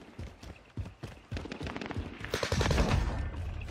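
Rapid gunfire in Warzone on the Caldera map, with dense bursts of shots and a loud, sustained rattle building toward the end, mixed with game noise.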